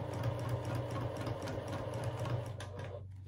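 A sewing machine runs in a rapid, steady stitching rhythm during free motion quilting of shell and scallop patterns, close and alone, then slows and stops near the end.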